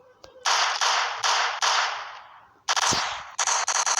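Gunfire in a zombie shooting video game rings out as a run of sharp, loud synthetic shots in quick bursts, each with a bright decaying tail, separated by brief pauses.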